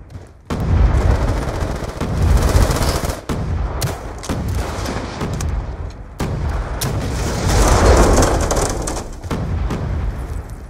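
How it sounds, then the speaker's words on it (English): C4 explosions in Black Ops 2 multiplayer on the Meltdown map produce dense, continuous booming and rumbling blasts with crackling gunfire-like bursts, loud and sustained throughout. "All that booming is C4."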